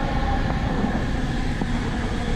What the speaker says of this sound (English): so there's the Long Island Railroad down there.